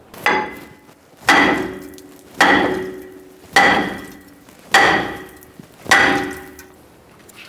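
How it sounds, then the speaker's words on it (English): Six sharp metallic hammer blows strike the brake rotor on a 2015-2020 Ford F-150 to free it, landing about once a second with ringing decay, close and loud with no talk. "Now we'll tap on this with a hammer so we can remove it."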